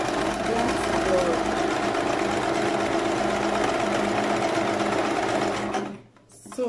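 A sewing machine stitches fabric for a kimono jacket, running steadily and loud for about six seconds before stopping abruptly near the end.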